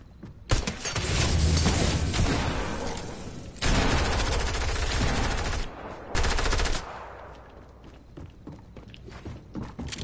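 Video game machine gun fire in rapid, loud bursts, with several long sustained volleys separated by brief pauses, then quieter scattered noise toward the end.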